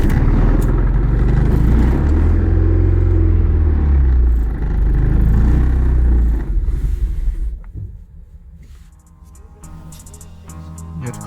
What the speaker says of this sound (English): when you try to start the car,